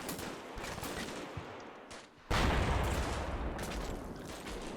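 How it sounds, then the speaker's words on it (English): A Stryker's Mark 19 grenade launcher fires in Combat Mission Shock Force 2, a sudden loud burst of repeated thumping shots after a quieter stretch of distant battle noise, continuing as a sustained rattling barrage. "also worth noting that we had Mark 19 fire from a striker, which is over here"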